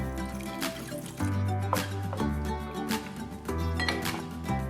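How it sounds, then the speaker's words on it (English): Vegetable broth is poured into a pot of vegetables for soup, a close liquid trickle and splash in several short pours with light clinks between them, no talking. "I'm going to go ahead and add the vegetable broth, just enough to cover them"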